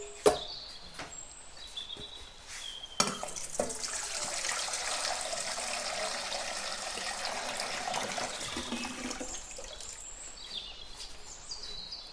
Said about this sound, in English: Okay, just plain tap water. I'm just going to add this in here